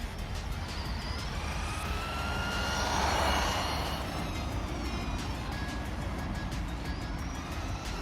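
Losi LXT radio-controlled truck with a brushed motor running off-road, a steady whining motor buzz with shifting pitch under broadband dirt and wind noise, swelling briefly mid-clip as it passes nearer.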